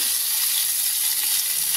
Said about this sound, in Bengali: আর এখানে পেঁয়াজ ভাজা স্টার্ট করলাম